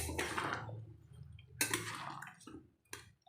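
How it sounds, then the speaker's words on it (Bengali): Hot water pours into a pot of cooking mutton in two splashy bursts, each gushing briefly and then trailing off into quieter bubbling, close and fairly faint. "তো দেখো এই যে জল অ্যাড করে দিলাম"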